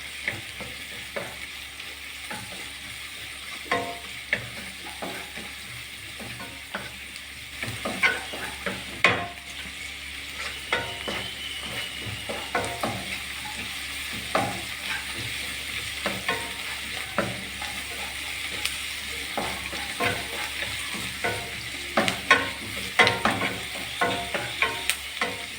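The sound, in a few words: onion and potato masala being stirred and fried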